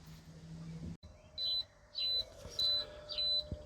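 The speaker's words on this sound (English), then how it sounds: "Just accept the timer alarm." A Masterbuilt Gravity Series 560 barbecue grill's timer alarm beeps four times in an even rhythm, each tone short and clear, over low background hum with no talk.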